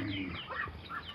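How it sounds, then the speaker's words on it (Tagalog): Pet ducks feeding in the morning give short, close, nasal quacks and clucking calls, a brief burst of busy bird noise. "Papakain tayo ng mga alagang pato."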